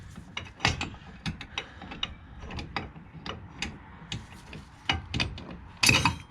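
A wrench ratchets on a Mazda 3 tie rod during replacement, with close, irregular clicks and metallic knocks in short bursts.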